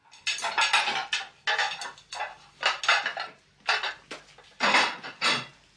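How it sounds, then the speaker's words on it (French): Dishes and cutlery clatter as they are put away in a home kitchen, in a series of separate clinking, rattling bursts with short pauses between them, close and fairly clear, with no talking. "Je range la vaisselle."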